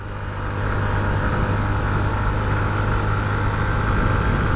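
Yamaha Mio Soul 125 scooter fitted with 9-gram flyballs climbing a steep uphill road, its engine droning loud and steady throughout with rushing wind noise, rising slightly in level at the start.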